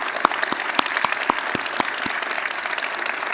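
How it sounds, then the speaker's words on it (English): An audience at an education conference session gives a round of applause for a speaker, a broad wash of many hands clapping at moderate volume with several louder individual claps standing out near the front. "I would love a round of applause for Dr. Tequilla Brownie."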